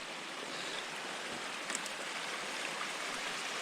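Meltwater from a spring thaw rushing and spilling out across the ground, a steady broadband wash of flowing water heard close and continuous without any voices.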